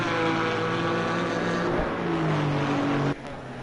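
A Porsche Cayman GT4 race car in Assetto Corsa Competizione at Misano, its engine holding a steady high-pitched whine with shifting tones, then a sudden drop in level near the end as the car moves off.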